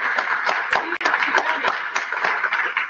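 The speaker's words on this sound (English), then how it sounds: "A round of applause for Yolanda for asking us." A small audience at an academic health and wellbeing research conference claps in a brief round, with distinct individual claps close by and no voices.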